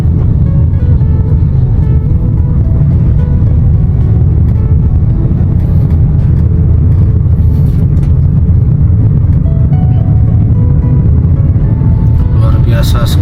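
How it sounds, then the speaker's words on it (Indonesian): A large convoy of trucks hauling construction material and fill soil rumbles past at night on a construction site, with a steady, loud, continuous engine drone throughout and people talking over it. "ini rombongan besar ya, truk-truk mengantar material maupun tanah-tanah timbunan"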